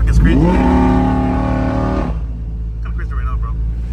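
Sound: busy road traffic

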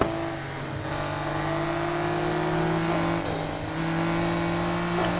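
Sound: 1997 Acura NSX car engine in video game Need for Speed Heat

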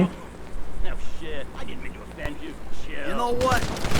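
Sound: gunfire in the video game GTA V

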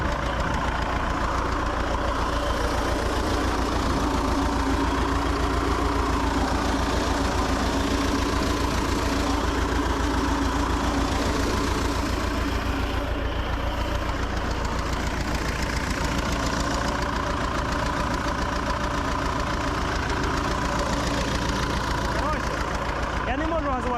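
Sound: T-40 tractor engine idling and revving

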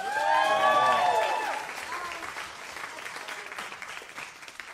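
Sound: audience applause

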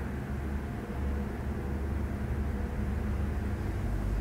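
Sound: highway traffic outside

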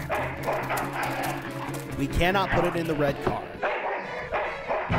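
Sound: dog barking in the video game Full Throttle

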